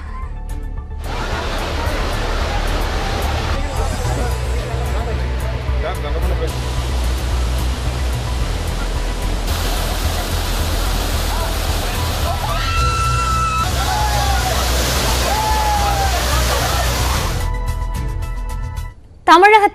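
Hogenakkal's main falls and Cini falls roaring steadily where people bathe, a loud continuous rush of water filling the whole stretch, with faint sporadic sounds from bathers over the torrent.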